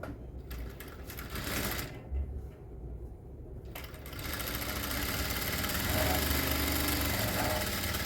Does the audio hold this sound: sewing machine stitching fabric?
yes